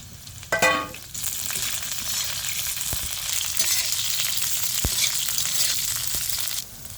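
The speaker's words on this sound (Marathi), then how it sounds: "तेलात लाल होईपर्यंत जरा लसूण भाजायचा." Garlic and green chillies fry in hot oil with a steady, bright sizzle that runs throughout, broken by a few sharp spatters and utensil taps near the start and in the middle.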